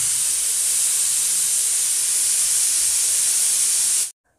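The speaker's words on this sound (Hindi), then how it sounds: "तो अब इसके अंदर जो गैस है ना वो निकाल लेंगे।" A pressure cooker vents steam after cooking chickpeas for chana masala, a steady loud hiss that runs continuously for about four seconds and then cuts off abruptly into silence.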